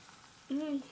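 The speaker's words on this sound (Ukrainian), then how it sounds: "Тут рибка парує шкварчи." Crucian carp sizzles quietly in a hot pan under a lid, a soft frying hiss broken halfway through by a brief, louder squealing tone.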